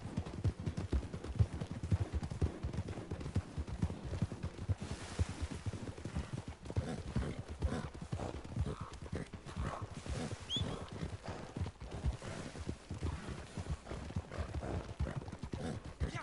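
Horse hooves clip-clop steadily in Red Dead Redemption II, a dense rhythmic clatter lasting throughout with occasional faint whinnies mixed in, no talk over it.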